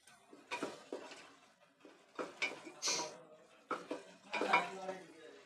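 A spoon scrapes and stirs a spice paste of coriander powder and black pepper powder sautéing in a pan, making irregular bursts of scraping strokes over a light sizzle, close by and with no talking.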